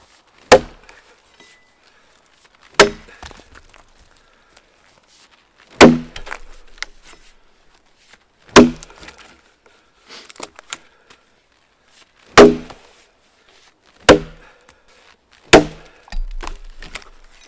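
An axe chops and splits firewood with seven sharp, loud wooden impacts spaced a couple of seconds apart, each with a brief splintering crack and quiet pauses between, close to the listener.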